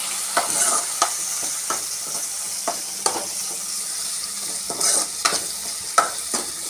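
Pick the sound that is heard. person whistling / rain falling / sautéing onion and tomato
sautéing onion and tomato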